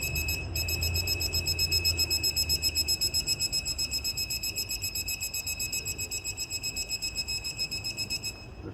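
A torque wrench tightening a left-hand thread to 55 newton-metres during a Mercedes W212 timing chain replacement gives a rapid, steady pulsing electronic beep that runs continuously at moderate volume.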